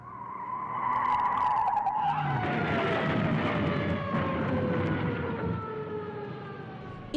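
Tires squeal in a long, loud skid that slides downward in pitch over a roaring engine, with no clear impact at the end.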